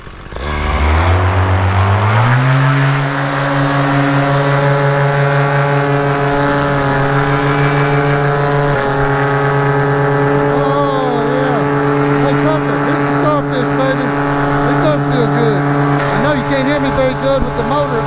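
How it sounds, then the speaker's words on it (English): Paramotor engine spooling up to full power for a climb, a loud steady buzzing drone that rises in pitch over the first few seconds, then holds constant and close with wind noise. "Good with the motor at full power"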